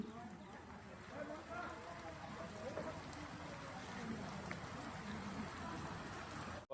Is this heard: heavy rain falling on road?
yes